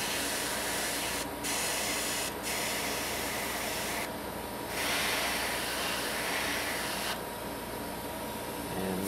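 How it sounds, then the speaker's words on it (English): An airbrush sprays paint in light passes over a 1/350 scale Bandai Space Battleship Yamato model, a steady close hiss running throughout with brief surges and pauses in the spray. "painting and airbrushing in general, you can add more, but you can't take it back once you've sprayed it on there"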